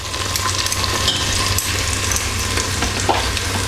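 Tom yum paste sizzles in a pan over slightly lowered heat, a steady close crackling fry with faint stirring and no talk.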